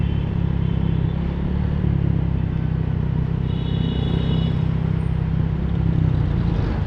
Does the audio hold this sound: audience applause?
no